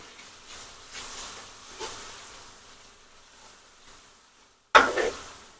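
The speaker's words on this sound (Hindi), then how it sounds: "अब हम इसमें डालेंगे टमाटर।" Finely chopped tomatoes drop into a hot curry pot for a potato and dumpling shorba, letting out a sudden loud hiss and sizzle near the end after a stretch of quiet stirring and faint crackle.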